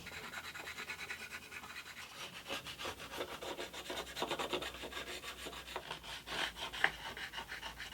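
Acoustic guitar body sanded against a radius dish, giving a steady close-up rasping, scraping rub in repeated back-and-forth strokes with no talking.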